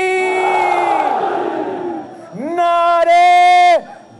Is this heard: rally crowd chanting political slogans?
yes